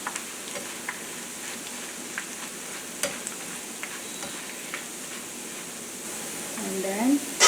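Boondi, droplets of gram flour batter, frying in oil, a steady faint sizzle with scattered small ticks and a louder clatter at the very end.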